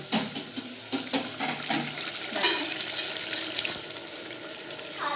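Masala frying in a pan for a capsicum chicken dish gives a steady, close hiss with a few light scrapes from stirring. It runs continuously with no talk.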